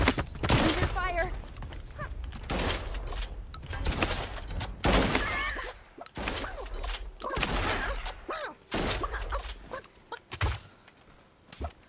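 Gunfire in the online battle royale game Realm Royale comes as loud, sharp bursts of shots spread across the stretch, with a voice talking between and over them.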